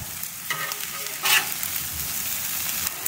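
Leftover rice and ham sizzling and stir-frying on a Blackstone griddle, steady loud frying hiss with a few scraping stirs from a spatula, close up and without talk.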